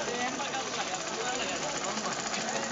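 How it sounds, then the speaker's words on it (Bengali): A tailor's sewing machine stitches cloth in a busy pre-Eid market stall, a steady dense mechanical whir running continuously and loud throughout, with market bustle around it. "কাপড় সেলাই করছেন, তারা দেখতে পাচ্ছেন।"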